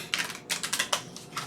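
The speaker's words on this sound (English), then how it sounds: "Let me get these cards shuffled to see what Spirit wants us to know." A deck of tarot cards is shuffled by hand, giving a quick run of crisp, papery flicks and taps in uneven bursts close to the microphone, with no voices.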